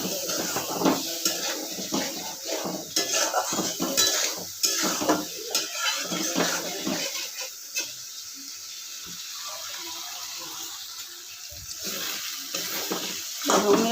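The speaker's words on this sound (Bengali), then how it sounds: "লঙ্কা বাটিতে একটু জল দিয়ে সেটা দিচ্ছি কষানোর জন্য। একটু কষিয়ে নিই ভালো করে।" Chili paste thinned with a little water is stir-fried in a pan, with a steady sizzle under repeated scraping and clinking of a spoon against the metal.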